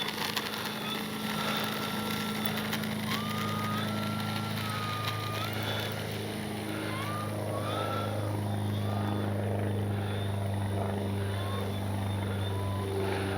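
An FMS 1400mm F4U Corsair RC warbird plane drones steadily with a buzzing electric motor hum and rising, falling pitch as it flies a speed pass on a breezy field.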